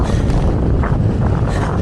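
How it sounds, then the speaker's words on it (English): Strong gusting wind blasting straight into the microphone outdoors, a loud continuous low rumbling roar with fluctuating buffeting and no speech over it. "hopefully you can hear this because it's so windy"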